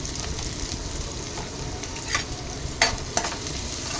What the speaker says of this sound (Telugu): అవి వెల్లుల్లిపాయలు కూడా కొంచెం ఫ్రై అవ్వాలి బ్రౌన్ కలర్లో